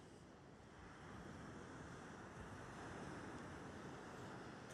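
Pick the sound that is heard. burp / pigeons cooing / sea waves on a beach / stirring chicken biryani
sea waves on a beach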